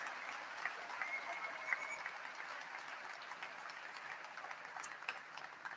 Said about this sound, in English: Could I have one last round of applause for our graduating seniors?